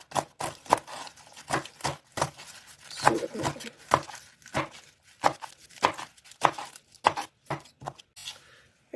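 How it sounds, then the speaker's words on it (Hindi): Spinach for saag is roughly chopped with a knife on a board in a home kitchen, producing a steady run of sharp, close chopping strikes in an irregular rhythm, with no talk over them. "बाकी की मैं पालक काट लूँगी"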